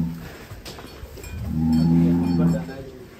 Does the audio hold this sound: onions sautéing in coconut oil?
no